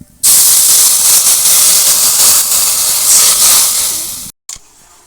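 Water poured into a hot pan with mustard oil sets off a loud, steady steam hiss that lasts several seconds before cutting off abruptly.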